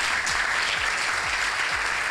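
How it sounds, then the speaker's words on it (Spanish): Brief audience applause honours a man at a golf federation tournament event, a dense, even wash of clapping with no talk over it. "pido un aplauso para él."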